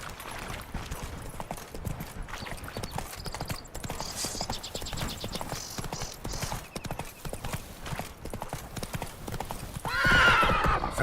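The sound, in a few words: horse galloping in video game The Witcher 3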